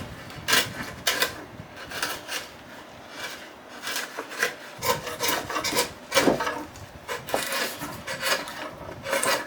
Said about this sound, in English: chisel on the line where we're going.